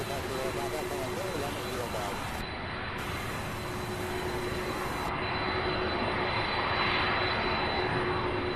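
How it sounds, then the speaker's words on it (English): Boeing 767 jet engines spool up at Louisville International Airport, a broad, steady roar with a droning tone that builds slightly toward the end, distant but filling. "Another 767 on the move."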